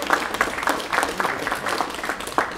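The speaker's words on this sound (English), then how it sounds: "Round of applause" City general services staff receive applause from an audience at a shelter-opening announcement, a moderate spattering of claps with rhythmic bursts, somewhat thin and steady throughout.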